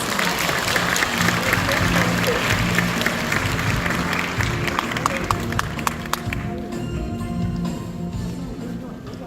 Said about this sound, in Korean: 뜨거운 박수로 무대 위로 모시도록 하겠습니다.